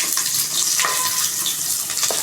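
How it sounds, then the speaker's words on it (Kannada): Onion and masala fry in oil inside a pressure cooker, producing a loud, continuous crackling sizzle close by, with faint stirring scrapes running through it. "ಆ ಕುಕ್ಕರ್ಗೆ ಸ್ವಲ್ಪ ಎಣ್ಣೆ ಹಾಕೋಣ. ಈ ಮಸಾಲೆ ಎಲ್ಲ ನಾವಿವಾಗ ಫ್ರೈ ಮಾಡ್ಕೊಳ್ಳೋಣ."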